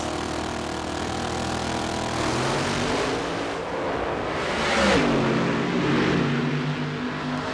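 Total Chaos, a drag racing car at the Keystone Nationals at Maple Grove, roars with a loud sustained engine howl that swells and shifts pitch partway through, with no voices.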